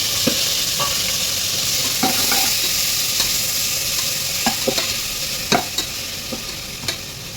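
Ginger garlic paste, tomato and onion sautéing in a pan, with a steady broad sizzle and repeated sharp clicks and scrapes of a spoon stirring, close and continuous with no talk.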